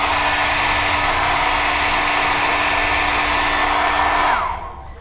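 A Vega hair dryer from a styling set runs on its higher switch setting, giving a loud, steady, close whoosh of fan and air that cuts off abruptly near the end.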